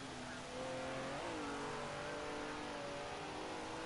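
BMW M1 Procar engine in a racing video game, lapping the Nürburgring GP circuit toward the Coca-Cola curve; a steady, loud engine drone with clear harmonic whine that dips and rises as it shifts and revs back up, close and continuous.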